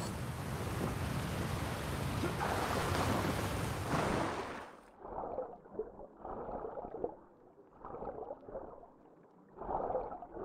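Rushing water from a waterfall in the video game Assassin's Creed Valhalla, a loud broadband roar for about five seconds that cuts off abruptly, followed by quieter, intermittent watery splashes and movement.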